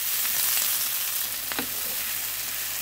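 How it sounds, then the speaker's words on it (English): Bell peppers fry in sesame oil in a pan with a steady, close sizzle and crackle that stays alone and unbroken throughout. "Add in a little more of your sesame oil or whatever oil you're using. Add in your peppers."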